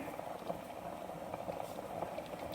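Water for chicken biryani rice boiling in a pot, a faint, steady bubbling simmer with soft continuous pops, heard alone at low volume.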